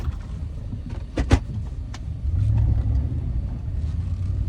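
A stuck truck's engine rumbles low and close, with a few sharp knocks before the revving rises into a heavier, sustained roar that holds to the end.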